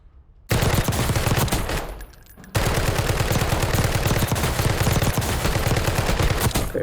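Loud automatic gunfire in Black Ops 6 comes in two long, rapid bursts separated by a short quieter gap, each a tight rattling string of close shots.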